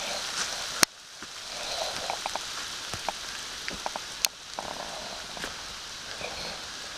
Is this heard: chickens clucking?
no